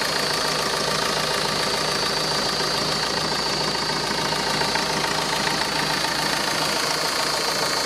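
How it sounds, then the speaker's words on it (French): A Renault Scenic engine idles with a steady, even mechanical hum and whir heard close up, continuous throughout with no voices. "Ça c'est le moteur."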